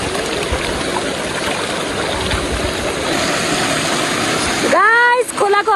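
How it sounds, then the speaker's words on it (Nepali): A mountain river rushes along in the Upper Dolpa region of Nepal, a steady broad roar of flowing water close by, with a voice speaking briefly near the end. "खोलाको हालत यस्तो छ"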